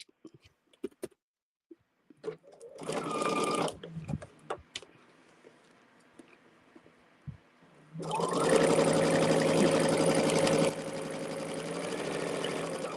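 A sewing machine stitches a quilt block straight down a marked center line, its steady motor hum running in two sustained bursts with quiet handling noises and clicks between them.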